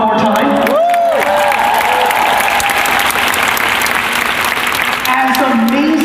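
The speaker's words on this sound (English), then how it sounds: "Let's clap it up for her one more time" An audience bursts into loud applause with some cheering for a woman who just performed on stage, a thick, continuous roar of clapping, with brief voices rising near the start and end.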